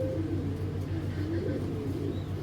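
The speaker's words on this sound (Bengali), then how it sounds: "চলুন কবুতর দুইটাকে একটু দেখাই।" Racing pigeons coo in a steady, continuous rumble at close range, low throaty calls repeating without pause, with faint faraway chirping from other birds behind.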